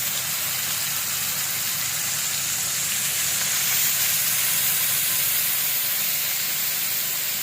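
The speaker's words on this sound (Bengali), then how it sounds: "রুই মাছ ভেজে নিচ্ছি, লবণ হলুদ মরিচের গুঁড়ো দিয়ে এভাবে করে ভেজে নিচ্ছি মাছগুলো" Rohu fish pieces coated with salt, turmeric and chili powder fry in hot oil, giving a loud, continuous hissing sizzle that holds steady throughout, close up with no talking.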